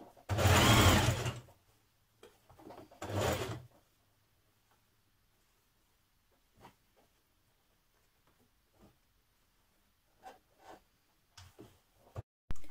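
A sewing machine stitches fabric in two short bursts, a close whirring run followed by a shorter second burst, then faint ticks and clicks in near silence.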